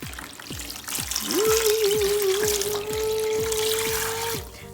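Water pours steadily into a beaker while slime is being made, a continuous close trickling stream running for about three seconds, with faint tapping before it and no talking.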